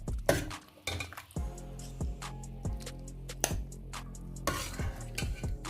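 Chicken karahi is scooped from a metal pan into a serving dish, with repeated close clinks and ringing scrapes of a utensil against the pan over a soft sizzle.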